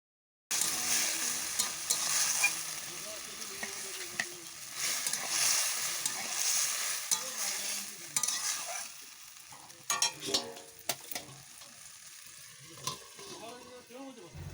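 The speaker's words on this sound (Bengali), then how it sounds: "লবণ আর হলুদ গুঁড়ো ভালোভাবে আলুর সাথে মাখিয়ে নেব" Potatoes being tossed in a pan with salt and turmeric powder, giving a soft sizzle and scraping stir strokes that thin out into scattered clinks and taps later on, with no talking.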